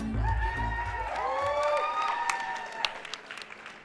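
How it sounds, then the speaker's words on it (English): Applause and cheering from the audience at a swing dance competition final, loud at first with whoops and shouts, then thinning out as music with rising tones comes in. "Give a big round of applause for Petra and Anne."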